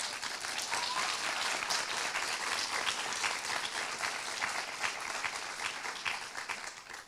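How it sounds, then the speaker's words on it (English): A graduation ceremony audience claps for the graduating class, a sustained wash of many hands applauding at moderate distance, steady throughout and easing slightly at the end. "Can we give them a round of applause,"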